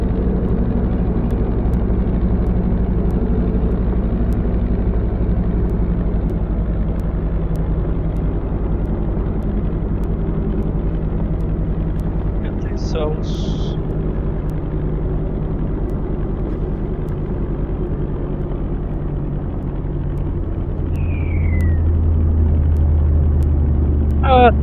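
A Rutan LongEZ aircraft in a VR flight simulator approaches to land, its engine a steady, loud droning rumble throughout, with a few faint higher chirps near the middle and end.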